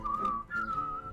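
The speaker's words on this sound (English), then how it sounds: "Just burst your lips and whistle, that's the thing." Clear human whistling of a short melodic phrase, two sustained tones close and fairly soft, heard alone, from a live stream singalong of Always Look on the Bright Side of Life.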